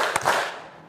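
A single sharp clap from a hand-clapping ice-breaker game in a classroom, one crisp close slap with a brief ring-out and no talk over it.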